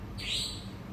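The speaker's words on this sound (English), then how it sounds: "But can you hear the bird outside?" A single thin, high call from a bird outside, thought to be a falcon, rises briefly and fades over a steady background hiss. It sounds fairly faint and distant, and no one talks over it.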